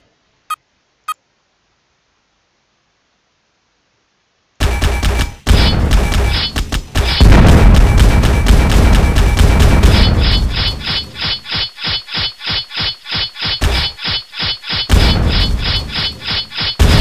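Gunfire in the video game Bad Bots: after near silence with two tiny clicks, loud bursts of blasting begin, then settle into a steady rapid rhythm of repeated shots with electronic pings.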